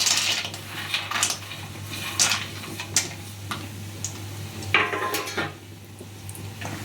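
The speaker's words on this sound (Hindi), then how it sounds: "और अब हम डाल देते हैं मूंगफली।" Peanuts clatter and tick against a pan for roasting, a run of small hard rattles and scrapes with brief sharper clinks, fairly close with no talk.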